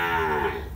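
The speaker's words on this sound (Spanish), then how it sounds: "Chula la vaca, ¿eh?" A dairy cow on a farm gives a single brief, close, loud moo with a steady droning tone throughout.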